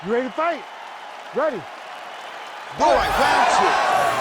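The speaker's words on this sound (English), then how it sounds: "This crowd is going sick after what they saw in that previous round." Crowd cheering and applause in EA Sports UFC 5, a loud roar of an arena audience swelling in toward the end after a few spoken words from a voice.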